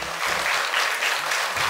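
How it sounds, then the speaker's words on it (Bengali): Audience on a televised dance competition claps in a short burst of full, even applause, close and fairly loud, with no voices over it. "হাততালি।"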